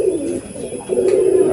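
Pigeon cooing inside a pigeon loft in Chiramangalam: a close, throaty, warbling coo that rises and falls twice, over a faint background hum.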